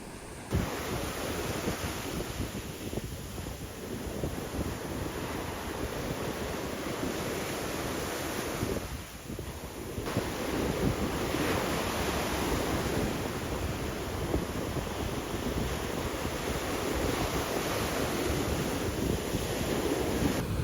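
Steady roar of surf as waves break continuously on a beach, with wind buffeting the microphone throughout.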